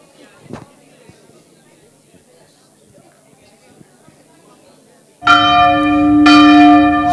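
A loud bell rings out at a parents and teens conference, a sustained ringing tone with a second strike near the end, following several seconds of quiet room murmur and a brief thump.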